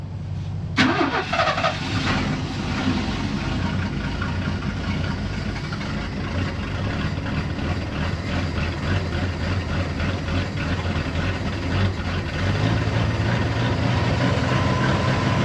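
A snowcat engine idles steadily on choke while warming up, a loud continuous low rumble that starts with a brief catch and runs unbroken, rising slightly near the end.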